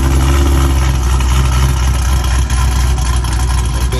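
A Chevy SS with a supercharged LSA V8 and factory exhaust idles close by, a loud, deep, steady burbling rumble that holds constant without revving, with no voices over it.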